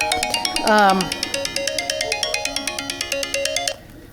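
A mobile phone ringtone chirps in a fast, regular electronic pattern for several seconds during a gardening talk, close and clear, with a brief voice speaking over its start.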